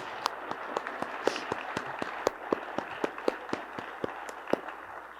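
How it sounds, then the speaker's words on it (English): Sparse, distinct handclaps from a small graduation ceremony audience, individual sharp claps spaced irregularly across the room with no speech over them. "let's give him a round of applause"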